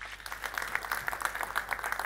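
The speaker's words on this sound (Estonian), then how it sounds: "võib aplausi ka Tanelile teha" Audience applause for cyclist Tanel Kangert at the Rattalaat 2023 stage event at a Škoda dealership, a modest, steady patter of many hands at moderate distance with no talk.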